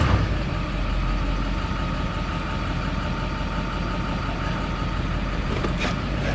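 A pickup truck towing an RV is given gas, producing a loud, steady engine drone with heavy low rumble that holds evenly throughout, with no one speaking.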